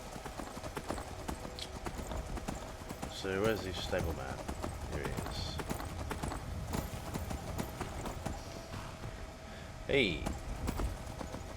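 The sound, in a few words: horse hooves clip-clopping in Skyrim video game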